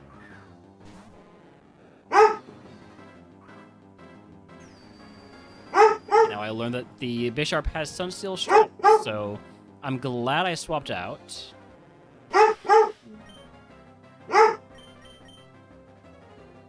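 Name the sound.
dog barking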